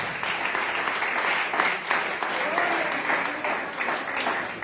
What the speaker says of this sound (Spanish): Ten un aplauso fuerte a tu vida